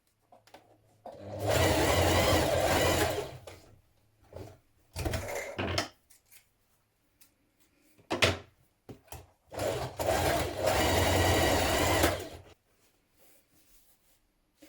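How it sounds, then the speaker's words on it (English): A sewing machine runs in two long bursts and a few short ones, stitching a 1 cm seam on a Kristin dress, with soft handling sounds of fabric and the machine in the quiet gaps. "So we're going to stitch it in place just there."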